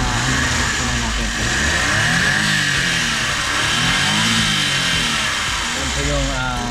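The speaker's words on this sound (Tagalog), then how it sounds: "Ito yung makina natin na naka turbo." A turbocharged Suzuki Every Wagon engine runs steadily close by, its droning hum swelling and easing slightly with revs, with no pause across the stretch.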